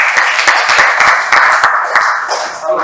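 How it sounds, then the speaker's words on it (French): Loud, close applause from an audience at a delegation visit event, brisk rapid clapping with distinct sharp individual claps filling the whole stretch and easing slightly at the end. "on peut applaudir"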